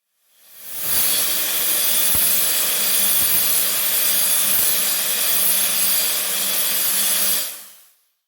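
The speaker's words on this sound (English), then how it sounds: "It was a bit fiddly doing it with an angle grinder" A harsh, continuous angle-grinder grind on metal while building a wood gasifier cyclone separator, loud and close, running steadily for several seconds before cutting off.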